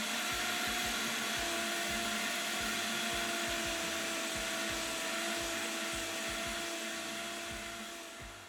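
A high-power vacuum cleaner running steadily while detailing a Corvette C5, a loud continuous whine with a droning hum underneath, heard up close and alone throughout.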